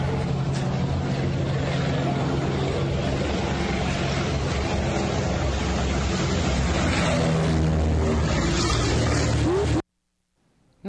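An airplane trailing pink smoke for a gender reveal passes overhead, giving a continuous broadband engine and prop rumble at moderate loudness, then cutting to silence.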